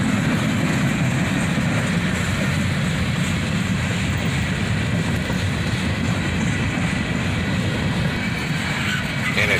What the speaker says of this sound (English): Here we see a graffitied up blue tank car as the train is starting its slowdown into